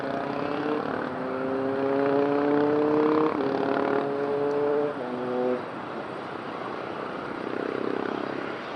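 A Portuguese Air Force Falcon jet at windy Madeira airport gives a loud, steady engine roar with whining tones that shift in pitch, close and sustained with no talking.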